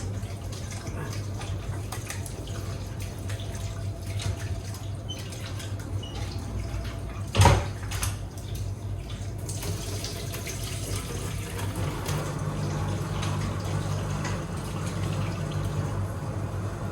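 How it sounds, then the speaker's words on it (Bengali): Tap water runs steadily into a sink while raw chicken is washed by hand, a continuous close splashing stream with one brief louder clunk partway through and no talking. "মাংসটা ভালো করে আমি ধুয়ে নিচ্ছি।"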